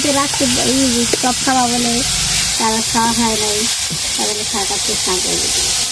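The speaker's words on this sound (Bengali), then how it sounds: "মা ওইখানে বেত শাক ভাজছে" Steady sizzling of bet shak leafy greens frying in a pan at a picnic, loud and close, with a voice speaking over it.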